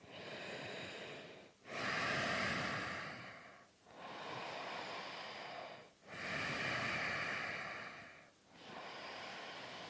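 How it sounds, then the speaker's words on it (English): Slow, deep breathing during a yoga breathing exercise, four long inhale and exhale cycles of close, airy, rushing breath, each separated by a brief pause, with no talking. "Working to increase our breathing capacity through our breathing exercises."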